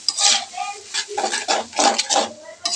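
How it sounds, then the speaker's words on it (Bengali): Noodles with their spice mix being stirred in a pan, heard as a series of rhythmic scraping and clinking strokes with a faint sizzle underneath, close and moderately loud. "তারপর আমরা নাড়া দেব"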